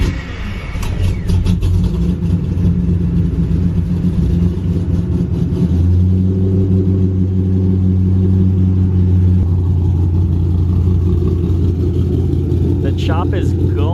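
A car engine with a 3V ghost cam tune starts and settles into a loud, steady idle around 1,090 RPM, its low rumble carrying a slightly uneven, choppy lope close by, with a voice speaking over it.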